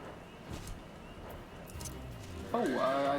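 A horse clip-clops and whinnies during a Final Fantasy XIV cutscene, with soft hoof beats under a low musical bed before a loud, shrill neigh near the end.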